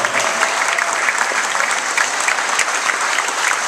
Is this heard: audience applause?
yes